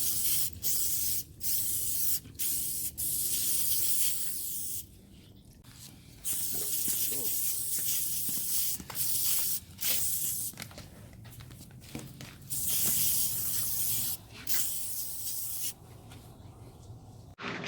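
Lysol disinfectant spraying inside a 2021 Thor RV, a series of loud, close hissing bursts of varying length separated by short gaps, with occasional quiet talk underneath.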